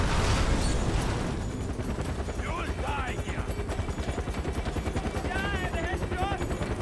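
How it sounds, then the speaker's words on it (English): Helicopters chase the player in Far Cry 4, their rotors beating fast and steady under bursts of gunfire, while a voice talks over the din. "Send two choppers after me?"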